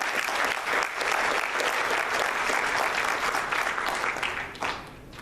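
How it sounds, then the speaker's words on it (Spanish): Congregation applause during a church service, a steady wash of many hands clapping at moderate volume that drops away near the end, leaving quieter scattered claps. "Si lo creen, denle un fuerte aplauso a Cristo."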